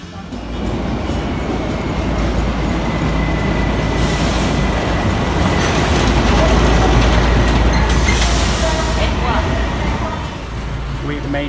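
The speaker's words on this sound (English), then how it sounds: "We're on the train. The train hasn't left." Inside a Himalayan Railway train waiting to depart, a loud, steady, broadband rumble fills the carriage. Muffled voices and a brief brighter hiss or two sit within the constant noise.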